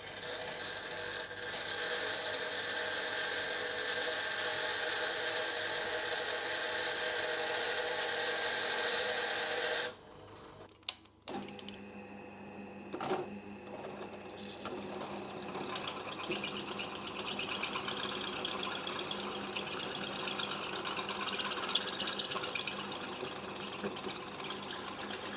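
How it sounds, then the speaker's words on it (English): A drill bit is sharpened by hand in the old-school way in a workshop. A loud, steady mechanical whirring with a high whine runs for about ten seconds, then stops abruptly. Quieter clicks and scraping follow. "I've got to sharpen up this drill bit. I'm going to do it the old school way."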